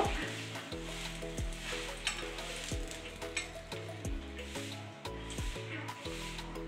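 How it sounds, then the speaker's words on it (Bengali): Dry red chillies frying in mustard oil, a continuous light sizzle with occasional clinks, mixed under prominent rhythmic background music. "লঙ্কাটাও লাল করে ভেজে নিয়েছি"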